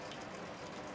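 Steady rain falling in the game Shadows Over Loathing, a continuous soft hiss with no breaks, fairly faint and alone.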